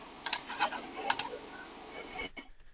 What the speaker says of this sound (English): We can hear clicking and sighs of frustration.